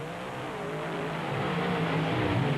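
Alcohol-fuelled Chevrolet and Ford monster trucks racing at a Canfield event, with a broad steady engine roar that builds slightly in loudness, heard from a distance without talk.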